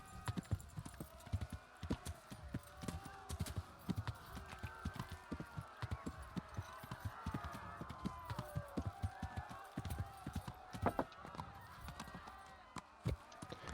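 Rapid hoofbeats of a horse galloping in Kingdom Come: Deliverance, a steady run of clip-clop strikes with occasional whinny-like tones, close and fairly loud.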